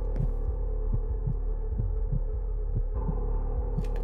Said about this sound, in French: Il y a un bruit de battement de cœur.